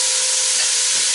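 Ackee frying in coconut oil produces a brief, loud, dense hiss of sizzling that fills the whole moment without pause.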